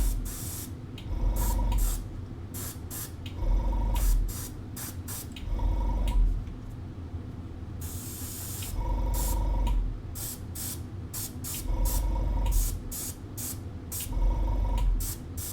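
An airbrush sprays paint in repeated hissing bursts of a second or two each, with short pauses between them, close and fairly loud with no talking.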